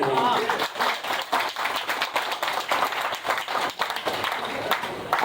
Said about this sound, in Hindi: इतनी तालियां तो बज जानी चाहिए।